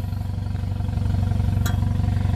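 A 2015 Toyota Yaris G automatic hatchback idles with its exhaust close by, giving a steady, loud, low pulsing rumble and a single brief sharp click partway through.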